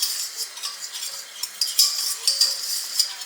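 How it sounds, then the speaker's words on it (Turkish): A metal spoon stirs flour as it toasts in a pan, giving soft scraping and light clinking taps at an uneven rhythm, close and fairly quiet. "Unumuzu da iyice altını vererek kavuruyorum."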